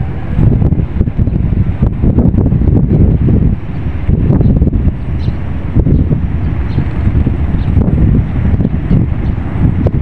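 Loud, constant wind roaring and buffeting close to the microphone on the deck of the ferry MV Virgen de Piñafrancia XII between Marinduque and Lucena, with a low rumble of open water underneath.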